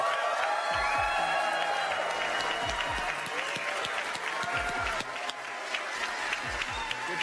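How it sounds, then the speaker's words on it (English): A large audience at an AMD Zen processor launch livestream breaks into steady applause with some cheering and whoops, a dense sustained roar of clapping that carries through and softens slightly toward the end. "The crowd is hyped."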